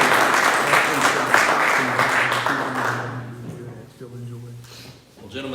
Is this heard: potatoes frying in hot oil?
no